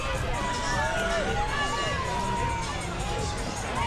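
A Mardi Gras parade crowd mills about in a loud continuous hubbub of many voices, with scattered shouts and cheers from people nearby.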